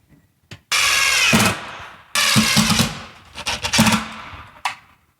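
A power drill with a magnetic Phillips bit drives screws while mounting shelf brackets: two long, loud whirring bursts, then several shorter stuttering pulses, close up with no talk.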